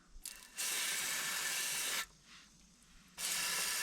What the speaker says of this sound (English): So I'm going to spray the inside of the rotor.